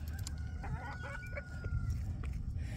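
Roosters crow in a farmyard in the morning, a couple of drawn-out calls from a short distance over a busy, rumbling background.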